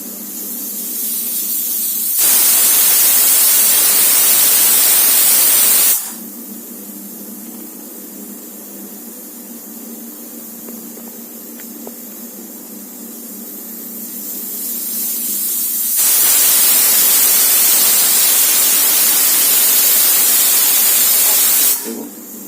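A pressure cooker cooking chana dal vents steam in two loud, sustained hissing bursts, one early and one near the end, with a quieter steady hiss running between them.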